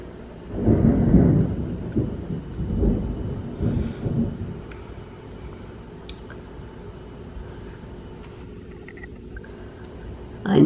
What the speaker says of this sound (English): Listen to that thunder.